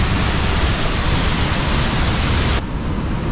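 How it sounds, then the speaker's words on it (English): A waterfall roars up close in a steady, dense wash of broadband noise that never lets up, its brightness dropping slightly near the end as the microphone shifts. "I bet I'm one of the people who's gotten closest to this waterfall."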